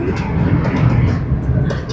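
Loud, steady low rumble of a London train running on rails, heard from inside, with faint rhythmic clatter throughout.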